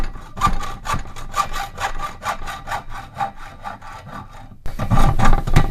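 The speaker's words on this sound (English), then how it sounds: "you just kind of pick a place and start sawing" Hand saw cutting through wood in steady back-and-forth strokes, about a dozen quick rasping passes, close by, ending with a louder burst of scraping.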